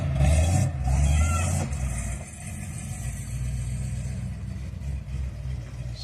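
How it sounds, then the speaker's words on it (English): A 1968 Plymouth Barracuda with a 318 small-block V8 and 4-speed runs with a low, rumbling idle, louder at first and then settling into a steady throb. "'68 Barracuda, small block 4-speed. As fun as it comes."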